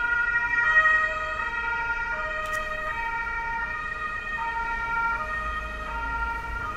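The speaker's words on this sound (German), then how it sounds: "Das ist Feuerwehr." A fire engine siren from the video game Tomba! 2 holds steady, loud and close, as a wailing electronic tone with stepped pitch changes over a continuous engine-like rumble, with no talking.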